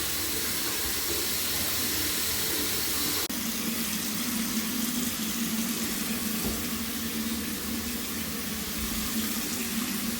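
Water rushes steadily down an unclogged pedestal sink drain, a continuous close gurgling flow that changes tone partway through and then keeps running evenly, with no one speaking.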